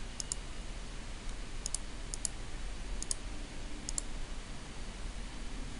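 Keys on a TI calculator are pressed to enter a label, a few faint, light clicks in small pairs spread over several seconds against a steady background hiss.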